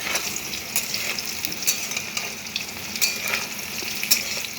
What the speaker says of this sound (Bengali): এরকমভাবে কিছুক্ষণ খুন্তি দিয়ে আস্তে আস্তে করে খুন্তি দিয়ে নাড়াচাড়া করব